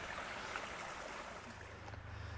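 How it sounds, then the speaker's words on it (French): Tiny stream in a garden trickling down toward the Blies river a few metres below, a soft, steady wash of running water, faint and continuous with no talking. "ce tout petit ruisseau, ben, lui, va regagner la Blisse qui est à quelques mètres en dessous"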